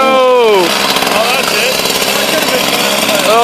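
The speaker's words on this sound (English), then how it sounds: "We just lost the chainsaw." Chainsaw cutting into a television set: a loud, rough buzzing motor whose pitch rises and falls as the engine revs and bogs under load. Excited voices shout over it.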